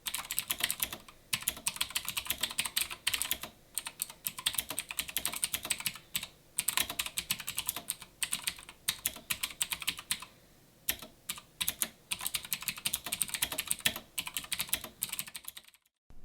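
Fast, steady typing on a Razer Blackwidow X Chroma keyboard with clicky Razer green switches, a close, crisp clatter of keystrokes in bursts separated by brief pauses.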